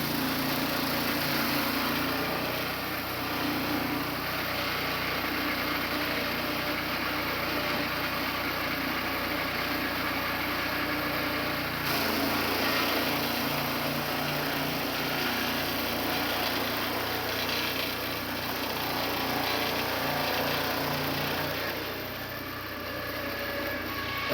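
Swing blade sawmill (Turbosawmill) cutting a large white pine log, a loud steady engine drone with continuous blade whine that holds for the full length with slight shifts in pitch partway through.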